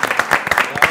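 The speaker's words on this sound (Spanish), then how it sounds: "Un aplauso, chicos. Un aplauso para Collado." A studio audience claps for a guest named Collado, a short burst of crowd applause mixed with voices talking and calling out over it.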